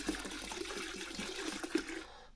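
Liquid pours from a canister, half its contents tipped out in a steady quiet stream with a couple of brief splashy accents, heard close and alone.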